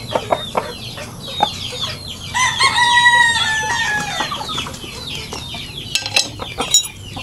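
Pet chickens cluck in short scattered calls while a rooster lets out one loud, drawn-out crow near the middle, with light clinks of feed dishes around them.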